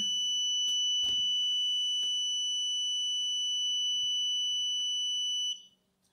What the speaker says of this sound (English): this meter should stop beeping because there's no longer going to be continuity